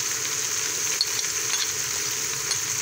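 Spice masala of dry coriander powder and cumin frying in a pan, a steady close sizzle with faint scattered ticks and stirring, no talking.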